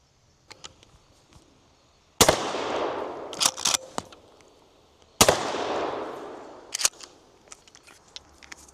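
A Remington 870 shotgun fires two loud, sharp blasts about three seconds apart, each trailing into a long rumbling decay, with smaller clicks and clacks of handling in between and no talk.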